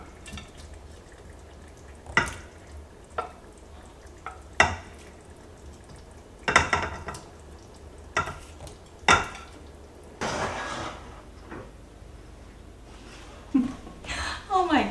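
Chicken pieces for a creamy Marry Me chicken dish go back into a pan, giving scattered clinks, soft plops and short sizzling bursts between stretches of a voice talking.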